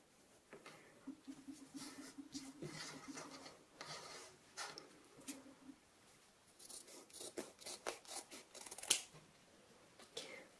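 Scissors cut fabric for a homemade face mask, giving close, quiet snips and rasping slides in irregular bursts with some rustling of cloth in between.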